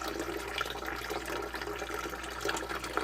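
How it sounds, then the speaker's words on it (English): A battery-powered 12 volt bilge pump, rated at 1,100 gallons per hour and used as a backup sump pump, pushes out water in a steady rushing, splashing stream that stays even and moderately loud throughout. "let's watch this bilge come on one more time. It pumps out fast."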